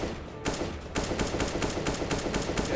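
Rapid gunfire from a Counter-Strike match crackles in repeated bursts of sharp shots at a steady, fairly quiet level, with no voices over it.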